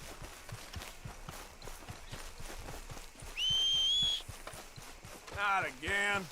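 Horse hooves in Red Dead Redemption 2 beat a steady galloping rhythm throughout, with a sharp whistle and a voice breaking in over the hoofbeats toward the end.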